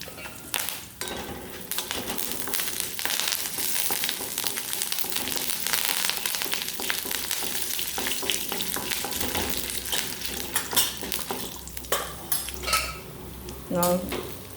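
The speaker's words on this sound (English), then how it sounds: "To this I will add the curry leaves and roast it." Chillies, curry leaves and channa dal dry-roast in a metal pan for sambar arachuvitta, with continuous scraping and stirring of a spoon against the pan, light sizzling and occasional clinks, close up.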